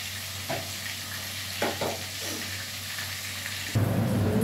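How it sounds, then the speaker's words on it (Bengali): Fish frying in a pan of hot oil beside a simmering pot of sour dal: a steady, close sizzle broken by a few utensil scrapes, then louder and rougher near the end. "মাছটা ভেজে নিই"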